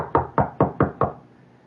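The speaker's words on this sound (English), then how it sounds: "what do you do when someone knocks at the door?" Five sharp knocks on a door in a quick, even rhythm, close and fairly loud, fading out after the last rap with no voices.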